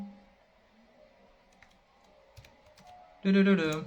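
Sparse, faint taps on a computer keyboard as a message is typed into Telegram, quiet isolated clicks before a voice begins speaking loudly at the end.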